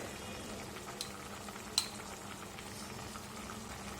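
Jackfruit and potato masala stirred in a pan, a quiet low bubbling simmer with a couple of faint spoon knocks, distant and soft, no speech.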